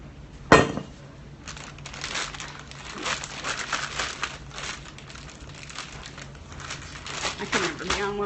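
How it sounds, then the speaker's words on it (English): Muffins being put into a plastic bag, crinkling and rustling of plastic in irregular bursts with a sharp crackle near the start, close by, while a person talks over it. "So you can see that I'm just putting it in this plastic bag."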